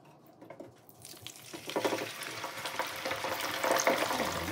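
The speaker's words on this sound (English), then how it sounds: "Once that fryer is warmed up, spread them around the tray so they're not touching each other, and then sink them into the hot oil" Squirrel wings are lowered into hot oil in a deep fryer, the sizzle building from a quiet start into a steady, dense bubbling crackle that stays close and continuous.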